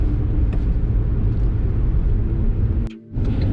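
A car cruising along a country road in Lincolnshire, the cabin filled with a steady, loud low rumble of engine and road noise, briefly dipping for a moment near the end.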